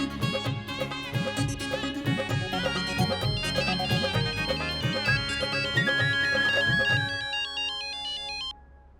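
A phone ringtone plays a repeating electronic melody loudly and continuously for about seven seconds, then thins to a quieter high tone before stopping, with no talk over it.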